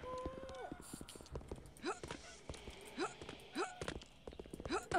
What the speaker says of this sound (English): I like how I'm walking slow, but it sounds like I'm on a horse.